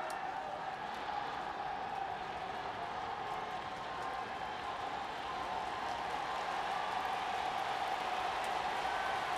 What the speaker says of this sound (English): Crowd amps back up.